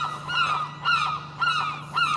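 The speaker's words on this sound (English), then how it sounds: "God, those seagulls are noisy, aren't they?" Gulls calling repeatedly near a gated former railway station building in the fishing port of Fraserburgh, Scotland, with loud harsh cries in bursts over a steady low hum.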